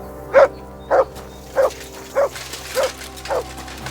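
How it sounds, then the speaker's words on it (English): A dog barks in Kingdom Come: Deliverance II, six evenly spaced, close, loud barks about half a second apart over a low background hum. "Good dog, Mutt. Show me"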